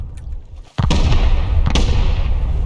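Deep booming explosions from a raid in the video game Rust, a sharp loud blast followed by a rumbling tail and a second blast, set against background noise.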